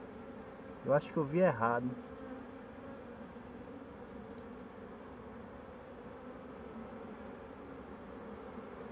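A honeybee swarm living in a tyre keeps up a faint, constant hum. A voice speaks briefly near the start over the buzzing.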